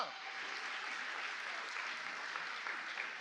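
A church congregation breaks into steady applause, a dense, even patter of many hands clapping at moderate distance without pause.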